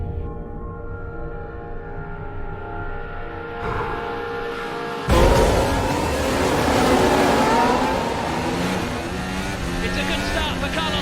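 Formula 1 race cars accelerating off the grid at a race start, a dense roar of high-revving engines swelling suddenly and rising in pitch, loud and sustained with commentary talking over it.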